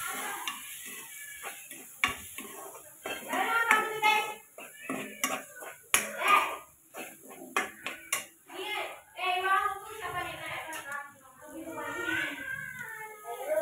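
Metal utensils scrape and clink against a cooking pot while masala-spiced food is stirred, with a person talking over the clatter.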